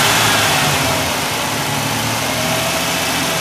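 A Ford Ranger six-cylinder engine with a power loss fault runs steadily at lowered revs in a repair shop, a close, even mechanical drone with a faint misfire-like unevenness.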